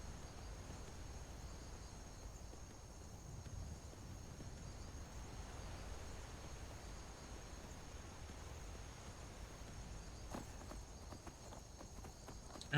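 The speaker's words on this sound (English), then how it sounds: "you can just walk down the side of a mountain on a horse" A horse walks down a mountainside in Skyrim, its hooves giving a soft, steady clip-clop under a faint wash of ambient wind and insects, with no talking.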